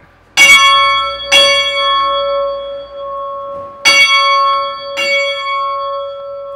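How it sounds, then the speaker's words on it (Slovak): The smallest church bell in a village belfry at Hniezdne, Slovakia, struck by hand: four loud, close clangs in two pairs, each leaving a long humming resonance between strikes. "najmenší zvon, ten sa volá Bartolomej podľa patróna a ochrancu obce Hniezdne a pre také lepšie šťastie si na ňo môžete aj zazvoniť"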